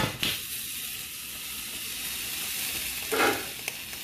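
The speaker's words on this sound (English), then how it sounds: "Okay guys, I added red oil, this red oil to my pot" Red palm oil sizzles and hisses steadily in a pot on the stove, a loud continuous crackle with a couple of brief stir bursts.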